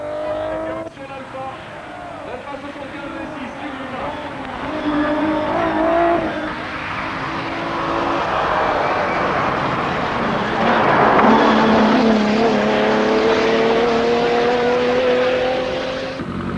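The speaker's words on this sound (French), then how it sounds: "c'est Yves Loubet sur l'Alpha 75. Avec le vieux V6" An Alfa Romeo 75 V6 rally car's engine roars and revs through gear changes at the 1986 Rallye du Var, pitch climbing and dropping as it races past, with a voice talking over it.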